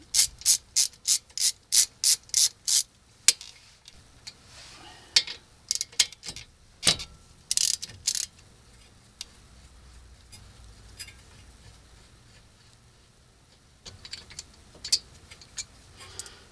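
A hand ratchet loosens the 14mm caliper bracket bolts on a 2008 Toyota Matrix/Corolla front brake, with rapid bursts of crisp clicking pawl strokes, then scattered clicks and quieter handling before a final flurry, close up and with no talk.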